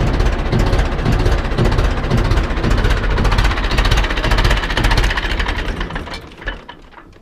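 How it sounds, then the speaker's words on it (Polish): An Ursus C-360 tractor engine idles at low revs with a loud, rapid knocking thud that shakes the whole machine, close up, then tapers off near the end. "No takie wolne obroty, że aż ciągnik chodzi cały."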